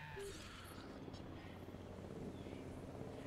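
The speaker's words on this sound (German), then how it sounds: "Helikopter, schnapp dir mal einen." A helicopter in the video game Jurassic World Evolution gives a faint, distant, low droning hum that holds steady under a soft windy background.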